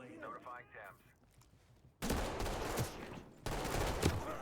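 Enemy gunfire in a shooter video game on the Sinuous Trail map on hard difficulty: quiet murmuring first, then loud, dense bursts of rapid shots crackling together in two heavy volleys.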